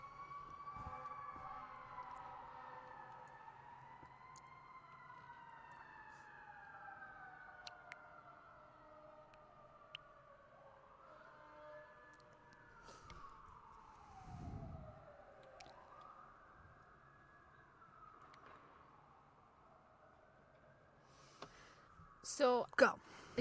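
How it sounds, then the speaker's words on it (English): An ambulance siren wails in long rising and falling sweeps as it passes, steady through most of the span at moderate distance, with a brief low rumble midway and a few sharp clatters near the end; speech may be faintly present in the background. "Hold on, there's an ambulance."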